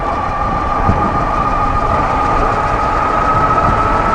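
A Wired electric bike rides on throttle alone, its motor giving a steady, loud drone with a constant mid-pitched whine and broadband wind rush that hold level throughout with no break.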